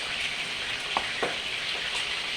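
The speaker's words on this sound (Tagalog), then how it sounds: "Habang niluluto natin yung meatballs natin" Meatballs fry in a pan for spaghetti with meatballs, a steady close sizzle with a few soft stirring scrapes.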